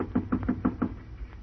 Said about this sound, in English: What's that knock?